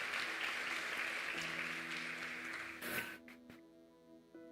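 A church congregation applauds during a morning service, fairly faint clapping that carries for about three seconds and then dies away, leaving a low steady hum with a few stray claps.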